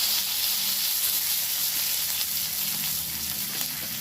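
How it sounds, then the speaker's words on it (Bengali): Cumin seeds and a bay leaf sizzle in hot oil, left over from frying vadas, as a dense, even, close hiss that holds steady throughout without speech. "ওই তেলের মধ্যে আমি জিরে ফোড়ন দিয়ে দিলাম, আর দিয়ে দিলাম তেজপাতা,"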